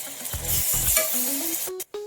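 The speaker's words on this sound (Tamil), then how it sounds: "பச்சை ஸ்மெல் போகிற வரை வதக்கி விட்டுக்குவோம்." Ginger garlic paste sizzling and frying in a hot pan while a utensil stirs and scrapes, with a brief break near the end before the sizzle resumes.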